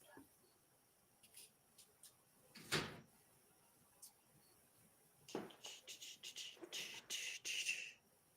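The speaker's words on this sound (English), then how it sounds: "Yes, I got the door closed." A door is shut nearby at home, a sharp thump followed later by a cluster of rattling clicks and knocks, fairly quiet against a faint room background with no talking.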